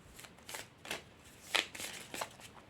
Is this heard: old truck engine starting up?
no